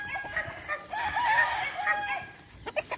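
Chicks and chickens on a poultry farm make a cluster of clucks and a drawn-out crowing call in the middle, followed by a few short, sharp calls near the end.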